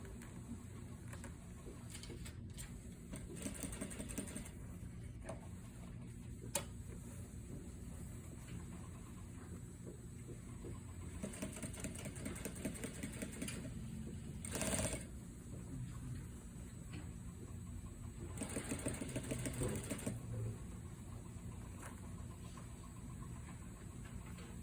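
A sewing machine understitching the seam allowance of a shawl collar at an eighth of an inch hums quietly at a steady mechanical purr, with short pauses and restarts and faint clicks between stitching runs, no one talking.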